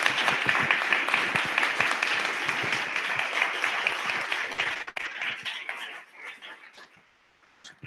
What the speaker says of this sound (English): guys, round of applause for really great work